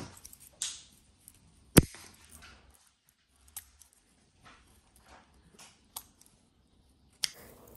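A few sharp, isolated snips as pruning shears cut through the woody stem of an orchid, one loud close cut followed by fainter scattered clicks in a quiet room.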